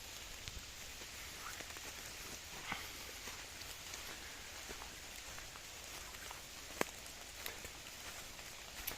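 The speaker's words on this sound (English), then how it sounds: "It's rain and we're soaked, but it's not cold rain." Rain falling on tarps at a wild camp: a steady soft hiss with scattered sharp drips and pattering taps, one louder tap near the end, fairly faint overall with no voices.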